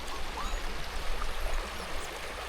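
A stream of water on Dartmoor runs in a continuous close rushing gurgle, steady and fairly loud throughout with no voices.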